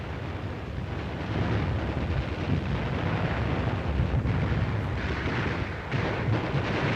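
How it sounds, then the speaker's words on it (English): Deep, continuous rumbling roar of an ammunition dump exploding on a Pacific island in World War II, with a thick low-end boom sustained for the full stretch and no voices. "When this Jap ammunition dump blew up, it shook the whole island."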